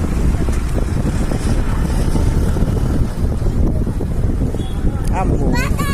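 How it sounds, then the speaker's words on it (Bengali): Strong wind buffets the microphone outdoors in a rural hometown setting, a loud continuous rumble with gusts throughout, while voices and a brief whistly call sound near the end. "বাতাস।"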